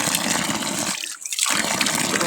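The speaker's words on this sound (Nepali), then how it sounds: "धारा यो चाहिँ प्योर अर्ग्यानिक धारा आफै उम्रेको मूल धारा" Spring water pours steadily from a natural spout at a village water source, a loud continuous splashing that breaks off briefly in the middle before resuming.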